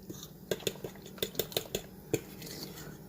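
Potato pancake batter seasoned with black pepper being mixed in a bowl, a run of light clinking knocks from a utensil against the bowl, close and fairly quiet, irregular taps over about three seconds.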